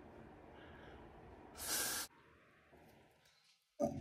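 Hair spray sprays onto a wig lace in one short, loud aerosol burst lasting about half a second, with a second brief burst near the end and quiet rustling in between.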